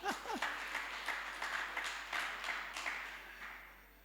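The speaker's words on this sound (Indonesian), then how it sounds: "Kasih tepuk tangan." A church congregation at an Indonesian worship service breaks into clapping, a burst of overlapping hand claps with sharp individual strikes at moderate level that fades away toward the end.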